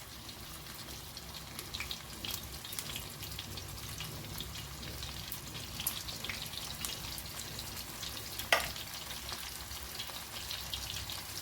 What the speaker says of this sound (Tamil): எண்ணெயை ஊற்றி தவாவில் ஃப்ரை பண்ணி எடுப்போம்.